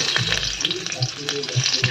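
Chopped garlic sizzles in hot soybean oil, a steady close crackle with a few light clinks and stirring taps over it.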